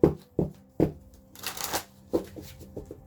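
Tarot cards are shuffled by hand in a series of crisp riffling bursts, close and clear, with brief pauses between the shuffles and no talking over them.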